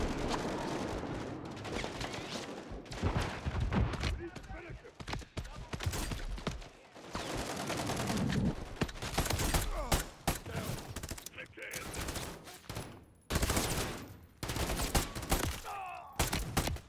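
Heavy .50 caliber gunfire in a Modern Warfare 3 campaign battle: dense, continuous bursts of loud automatic fire and impacts with brief pauses, faint voices mixed underneath.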